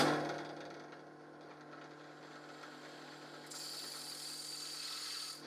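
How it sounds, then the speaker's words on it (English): A steady mechanical whir of a drill press running, with a higher-pitched grinding edge joining near the end as the bit cuts a hole in a pocket knife blank; no voices. "next up I'll drill out a hole on my drill press"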